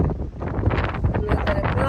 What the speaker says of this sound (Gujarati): હું બોલતી છે ને બરોબર સંભળાતું પણ નહીં, કારણ કે પવન જ એટલો છે.